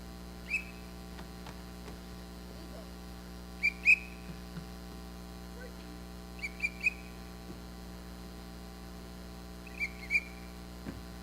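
Several short, high whistle blasts come in small groups, sharp and clear against a steady low electrical hum, with quiet gaps between them.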